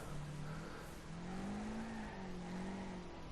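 A race car engine in the video game Wreckfest holds a steady, loud drone, with the pitch rising and falling gently as the car accelerates through a section of track. No voices are heard.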